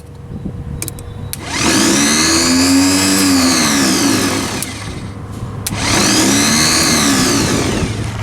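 Tractor starter motor cranking in two long bursts with a pause between, a loud whirring drone that rises and falls in pitch within each burst.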